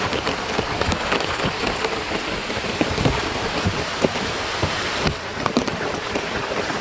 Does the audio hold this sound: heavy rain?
yes